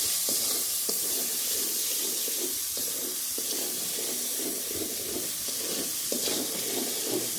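Whole spices such as cinnamon, cardamom and black pepper fry in hot oil for a meat curry, a continuous close sizzle broken by light stirring clicks.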